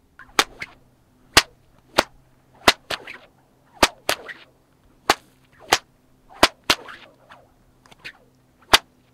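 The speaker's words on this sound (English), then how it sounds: "there are no surfaces for the crack of the whip to actually echo off of" A bullwhip cracks loudly about a dozen times in an uneven rhythm, each sharp snap followed by a short echo, heard alone over a faint steady hum with no speech.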